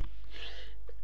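A single short sneeze bursts out close and loud, a quick breathy blast that fades within a second.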